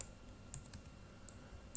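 Computer keyboard typing in a quiet room, a few faint, sparse key clicks at irregular intervals with no voice.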